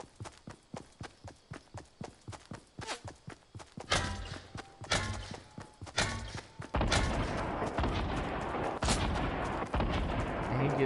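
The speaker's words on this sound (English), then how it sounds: "I hear gunshots." Gunfire in the Fortnite video game: a rapid series of sharp shots at first, then heavier bursts and a sustained roar of firing toward the end.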